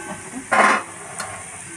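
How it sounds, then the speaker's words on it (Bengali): Small gulab jamun balls fry gently in oil with a soft, steady sizzle. A single brief stirring scrape breaks in partway through, and no one speaks. "এইভাবে নেড়ে নেড়ে আস্তে আস্তে করে নেড়ে ভেজে নিতে হবে"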